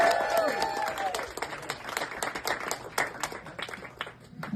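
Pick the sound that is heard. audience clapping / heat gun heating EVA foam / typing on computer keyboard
audience clapping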